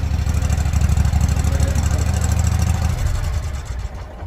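A Walker T25i mower engine runs close by at a steady, throbbing idle, then winds down and sputters to a stop near the end.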